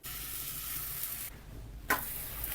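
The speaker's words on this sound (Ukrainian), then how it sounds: "Залишаємо на 10 хвилин і починаємо пекти млинці." Pancake batter sizzles steadily in a hot frying pan, a close, continuous hiss that cuts out briefly and then returns with a small splash.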